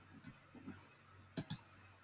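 Two quick, sharp computer mouse clicks in close succession while editing in iMovie, following faint soft room noise.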